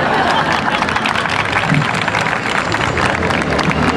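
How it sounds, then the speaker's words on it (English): An audience at a Paris live music performance claps for the performer's manager, a loud, dense, continuous wash of clapping and crowd noise. "Clap your hands for him."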